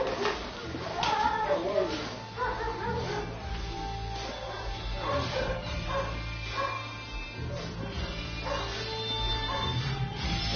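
A dog in a film scene barks and yips in short bursts, heard under people talking and a steady background hum.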